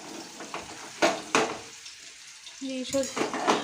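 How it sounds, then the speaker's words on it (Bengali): Oil sizzles steadily as fish fries in a pan while utensils clatter and scrape against it in several sharp knocks. "আর একদিকে হচ্ছে মাছ ভাজা বসিয়েছি"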